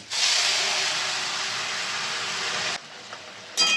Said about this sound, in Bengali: লাউ শাকটা যে সিদ্ধ করে রেখেছি এটা আবার দিয়ে দেব